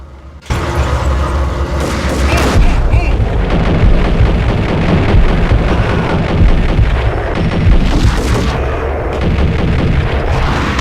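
Gunfire from the video game Max Payne, a dense, loud, continuous barrage of shots and booms lasting several seconds over a layered game soundscape, starting abruptly after a short quiet lead-in.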